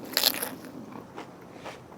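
A crunchy bite into a Nashville hot grilled chicken sandwich with BBQ flavour, one sharp close crunch followed by a couple of softer chewing crackles, no talking.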